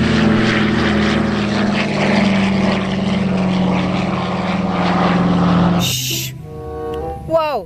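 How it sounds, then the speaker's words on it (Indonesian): A twin-propeller Indonesian military aircraft drones loudly and steadily with a deep propeller hum, passing close before the sound drops away abruptly near the end. "ada pesawat militer Indonesia dengan dua"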